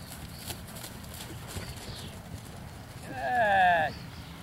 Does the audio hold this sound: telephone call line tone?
no